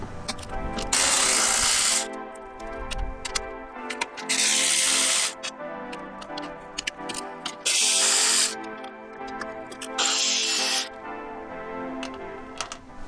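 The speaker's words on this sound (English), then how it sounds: "you need a 13mm socket to take the bolts out" A ratchet with a 13mm socket works loose the strut brace bolts on a BMW in short bursts of quick clicking, separated by loud spraying hisses.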